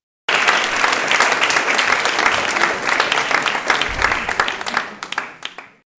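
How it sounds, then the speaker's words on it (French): An audience claps enthusiastically at a French-language religious talk with a bishop, a thick continuous wave of applause that starts abruptly and tapers off after about five seconds. "Oui, cela mérite bien tous ces applaudissements."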